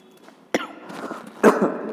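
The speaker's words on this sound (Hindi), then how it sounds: "माफ करना थोड़ा खांसी आ रही है" A lecturer gives a couple of short, sharp coughs, close by, separated by a brief pause with quiet breathy sounds between them.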